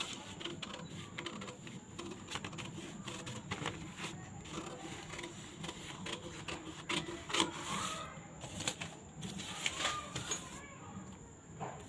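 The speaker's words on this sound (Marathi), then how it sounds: "एक्स्ट्रा पेपर आहे तो कट करून घ्यायचा आहे." Scissors cutting through a paper pattern for a katori blouse, giving a steady, close rasping and rustling that runs continuously at low level with a few sharper snips.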